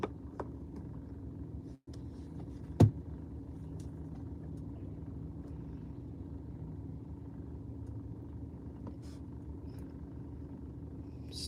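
A parked car's engine idles steadily in a low, even rumble throughout, with a brief thump and a sharp click early on and no talking.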